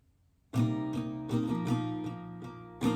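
Acoustic guitar strumming the third chorus line of a song, with several loud strums and chord changes sounding alone and close.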